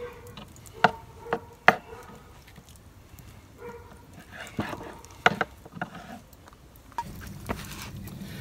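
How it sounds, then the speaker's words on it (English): A knife chops fat off raw chicken on a board while a chicken curry is being prepared: a handful of sharp, separate knocks spaced irregularly, fairly close but quiet overall. "I'm just going to chop off this little bit of fat just to make it a little bit leaner"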